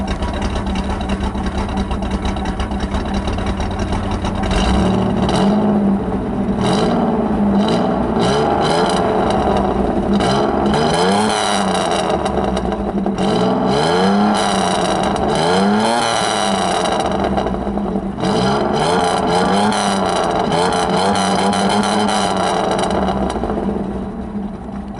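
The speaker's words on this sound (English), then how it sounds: "I gotta just put you guys back here and let you listen right at the exhaust" Right at the exhaust of a Pontiac Firebird, the engine revs repeatedly, loud and close, with throttle swells rising and falling between stretches of raspy idle and no talking.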